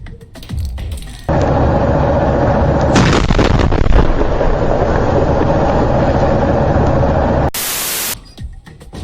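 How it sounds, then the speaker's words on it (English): A truck's gas tank blows up in the video game Alpha Protocol, a loud sustained roar of blast and crackling debris that fills several seconds, cut off by a sharp hiss before fading into quieter game ambience. "Try and chuck one beneath the truck and take out the gas tank."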